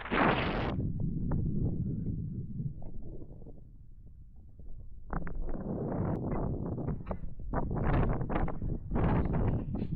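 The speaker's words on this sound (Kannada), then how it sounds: "ಹೆಲ್ಮೆಟೇ ಕೆಳಗಡೆ ಬಿಟ್ಟಿದೆ, ಅಷ್ಟು ಗಾಳಿ ಬರ್ತಾ ಇದೆ." Strong wind on the hilltop at Mullayanagiri buffets the microphone with loud, gusty roaring. It eases briefly in the middle and then surges again in rough bursts.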